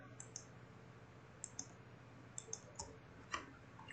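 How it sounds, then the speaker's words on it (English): Computer mouse clicks from editing in Photopea: a quiet, irregular run of about eight sharp, light clicks, some in quick pairs, over a low, steady room hum. "click once, and then I just keep clicking along"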